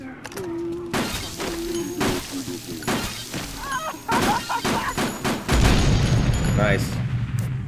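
Gunshots and crashing impacts in the Dead Rising game on PC, several sharp loud bursts spaced through the stretch with a denser rumbling barrage near the end, while someone talks over them.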